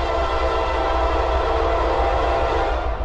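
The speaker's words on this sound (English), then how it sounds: "Norfolk Southern 11N, here it comes." Norfolk Southern 11N freight train approaching, a loud, steady horn blast sounding close over the continuous rumble of the moving train, with no talking.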